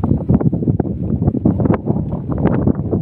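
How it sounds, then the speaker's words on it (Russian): Strong wind buffets the microphone with a steady, rough low roar and gusty surges throughout, with no other clear sounds. "Ветер, ветер какой."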